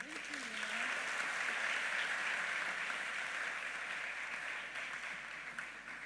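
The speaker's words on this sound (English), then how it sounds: "I'm sure we should be able to clap again" An audience at a climate change and green economy week opening ceremony applauds in a steady, sustained round of clapping at moderate distance, fairly faint overall, with a voice briefly audible at the start.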